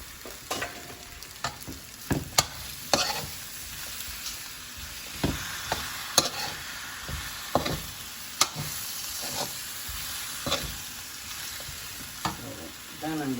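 Drunken noodles (chow fun) sizzle and fry in a hot pan as broccoli goes in, with repeated sharp clatters of stirring and tossing over a steady frying hiss, close and moderately loud.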